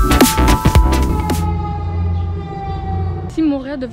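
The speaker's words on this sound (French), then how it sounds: "le bruit des pompiers" A fire truck siren wails with a sustained tone amid loud thumps and street noise in Montreal at the start, then a voice briefly speaks.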